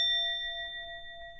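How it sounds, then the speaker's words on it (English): One sound bell rings out clear and bright, a sustained metallic tone with steady overtones that slowly fades over a second and a half, heard alone in a quiet room. "I want to start with a sound bell."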